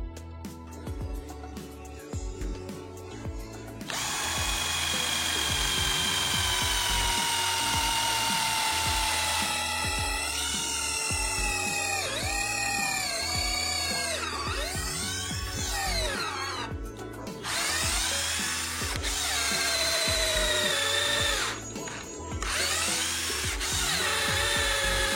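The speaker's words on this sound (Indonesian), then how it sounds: "ini adalah mata bor kayu ukuran 10 mm. Medianya masih sama, kayu mahoni dengan ketebalan 10 cm." A Nanwei 20V cordless drill with a 10 mm wood bit bores into 10 cm thick mahogany, the motor whining steadily and dipping in pitch as the bit bites, with scraping and grinding between bursts.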